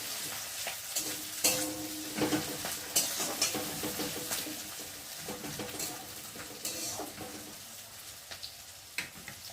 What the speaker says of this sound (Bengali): এখন আমি এই যে কেটে রাখা পেঁয়াজগুলোকে দিয়ে ভালো করে ভেজে নেব